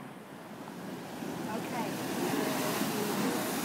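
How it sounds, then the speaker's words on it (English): Ocean waves wash onto a rocky coast with tide pools, a broad rushing surge that swells louder toward the end. Wind buffets the microphone, and a voice briefly speaks. "The water will come in, got another wave coming."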